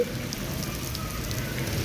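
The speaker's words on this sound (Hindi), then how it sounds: "इतनी तेज बारिश है," Steady heavy rain pours down, a dense continuous hiss of drops hitting surfaces with no voices.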